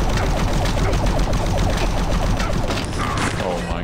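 Enemy minigun fire in the Doom 3 BFG Edition video game, a dense continuous burst of rapid gunfire with booming thuds running loud and steady for the whole stretch.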